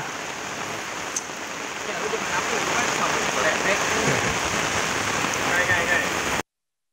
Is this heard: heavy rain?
yes